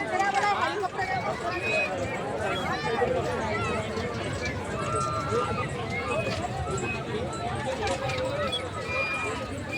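Busy crowd at a village fair, a steady dense babble of many voices with shuffling and movement, loud and close throughout, with someone talking over it.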